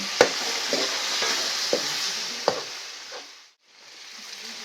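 Onion stirred and fried in a pan hisses with a steady sizzle, broken by a few sharp scrapes of the spoon against the metal before the sound briefly drops away and returns.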